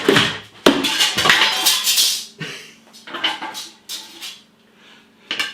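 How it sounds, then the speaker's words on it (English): A metal beer machine drip tray clatters onto a hard floor, a burst of rattling and clanging that settles into a few smaller clinks. "Drop the drip tray on the floor."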